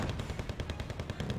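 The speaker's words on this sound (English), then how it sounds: "Did you see where that AA fire was coming from?" Rapid, sustained anti-aircraft fire in the war strategy game Wargame Red Dragon, a dense rhythmic stream of loud automatic bursts repeating steadily without pause and with no voices over it.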